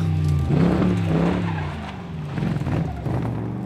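Classic race cars, including a light 2-litre Porsche 911, a Porsche 904 and powerful Cobras, tear along mountain roads, with a loud close engine drone and tyre squeal rising and falling over a few seconds.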